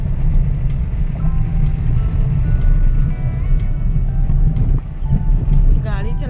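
A car drives along a rough, broken road, its engine rumbling steadily and the cabin rattling from the bumps, while people talk inside.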